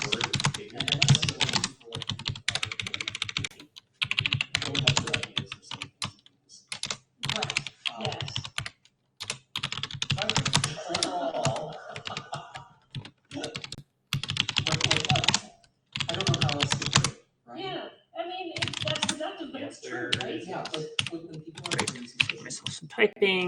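Rapid bursts of typing on a computer keyboard while writing code for an Advent of Code puzzle, close and fairly loud, coming in clusters separated by short pauses, with no talking.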